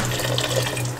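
Chicken bone broth poured from a carton into a cooking pot, a brief steady liquid rush heard close and loud over a low hum.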